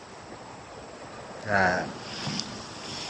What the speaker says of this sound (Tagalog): high tide ngayon. Medyo malakas ang alon.